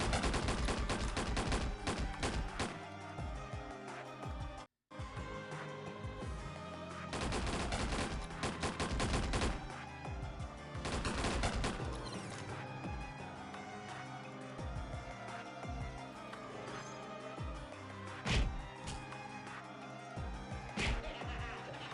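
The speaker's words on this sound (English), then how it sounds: "Shotgun, shotgun, shotgun." Rapid, dense shotgun blasts from a Gunslinger in Ragnarok Online, fired in loud, crashing bursts one after another for the whole stretch, with only a brief break near the start.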